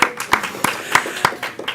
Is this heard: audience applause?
yes